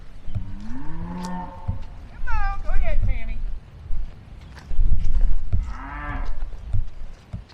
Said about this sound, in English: Nothing like an excited cow jumping around like that,